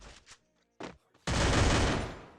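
Bursts of MP5 submachine gun fire in a competitive shooter video game, a couple of short pops followed by a long, loud, sustained volley of rapid shots.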